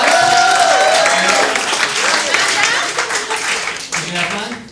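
Crowd applause at a comedy contest in a club's annex room in Pasadena, a loud wash of clapping under cheering voices that gradually tapers off.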